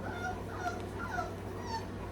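A young puppy from a litter whimpers faintly in repeated short high whines, several thin cries over a steady low background hum, with no talk.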